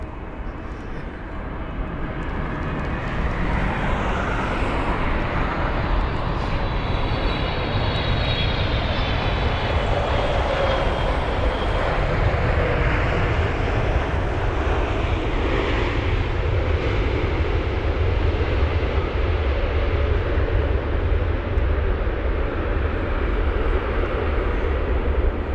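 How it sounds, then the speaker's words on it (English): A Boeing 777-300 lands at London Heathrow, a loud sustained engine roar that swells in and holds steady with a broad rushing rumble and faint whine, heard from outside at close range. "touchdown there from that 777-300 aircraft"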